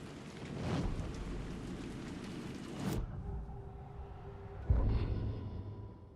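Steady rain in the video game Alan Wake 2 falling on a city plaza, a soft hiss of drops that drops away suddenly, then a quieter drizzle and a dull low thud before the rain swells again.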